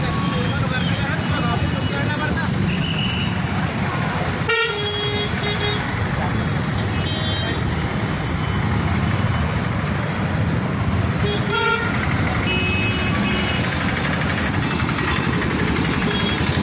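Congested traffic at Jijau Chowk in Mehkar, with cars, two-wheelers, trucks and a JCB stuck on the road; a loud, steady roar of engines is broken by horn toots, and a voice talks over the din.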